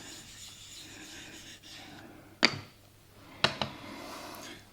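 A blade rubs against a wet sharpening stone to work up a paste, giving a soft rasping scrape in the background with two sharper, louder strokes close by.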